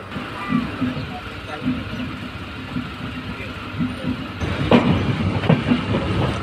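A Madhumati Express train with LHB coaches creeps forward again past bridge works, a steady low rumble and engine drone with faint rhythmic wheel clatter, growing slightly louder and busier toward the end.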